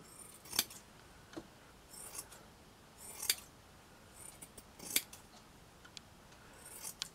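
Sharp scissor snips cutting chipboard plaque material, several quiet crisp clicks spaced irregularly, close and alone with no talk.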